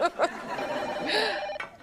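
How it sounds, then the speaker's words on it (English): A telephone rings in a TV comedy scene, a brief trilling ring heard amid laughter and background voices. "Gasp! The phone!"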